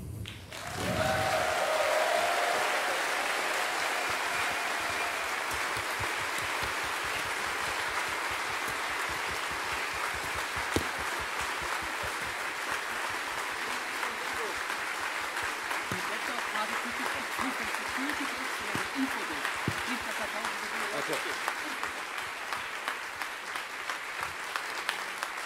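Sustained applause from a large convention audience at a closing ceremony, steady dense clapping that holds loud for the whole stretch, with a voice over it at the start.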